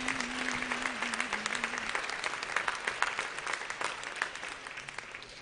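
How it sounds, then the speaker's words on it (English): A church congregation at a spring revival breaks into applause, a dense, sustained wash of hand claps from many people filling the room, fading slightly toward the end. "Let's give the Lord another hand clap of praise."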